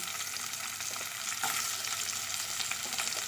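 Potato pieces sizzle loudly in hot oil tempered with mustard seeds and dried red chillies, a dense steady frying hiss with occasional crackles and no talk.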